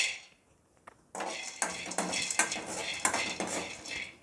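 Roasted pistachios being moved from a pan onto another plate, a quiet start followed by a run of close metallic clinks and scrapes of spoon against dishware, with several sharper taps.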